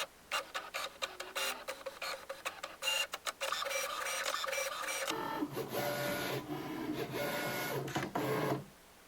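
A Cricut cutting machine working through magnet sheet material, with quick rhythmic clicks and whirring carriage moves at first, then a steadier mechanical buzzing drone as the cut continues before stopping.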